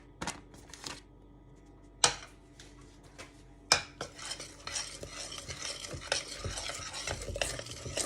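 Butter is stirred in a pan with the gas already off while making gingerbread cookies. A spoon scrapes and clacks against the pan in sharp knocks, followed by busy, continuous stirring.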